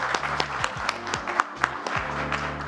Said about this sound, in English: Everyone, can I have a round of applause for her?